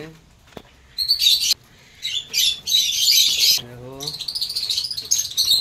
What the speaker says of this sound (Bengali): এসব ককটেল পাখি সব।